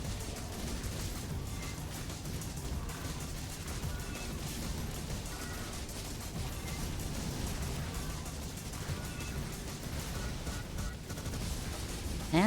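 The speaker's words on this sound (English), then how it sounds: "And those bigger explosions are the C4." C4 explosions and rapid gunfire from a video game crackle and thump continuously at low level, a dense chaotic barrage with occasional bigger booms standing out.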